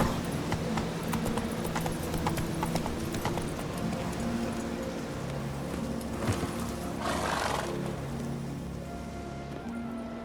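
A horse gallops in The Witcher 3 video game with a quick, even clip-clop of hooves at moderate volume over a low ambient rumble and a short whoosh near the end.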